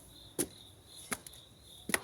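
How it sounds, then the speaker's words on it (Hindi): Crickets or similar insects in bushes on an early morning, a faint thin steady chirp running throughout, broken by three sharp near clicks. "कुछ वो झींगुर जैसे कीड़े होते हैं ना, उनकी भी आवाज़ आ रही है।"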